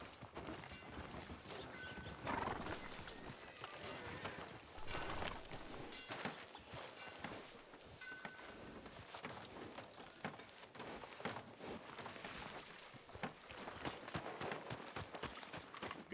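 Horse hooves clip-clop steadily through Red Dead Redemption 2, a continuous walking rhythm of close, fairly loud hoofbeats with faint mechanical jingles mixed in.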